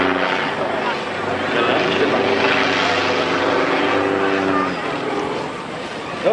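A stunt airplane flies aerobatics at a Kansas City air show, its engine droning steadily and swelling through a climb, with a commentator talking over the sound.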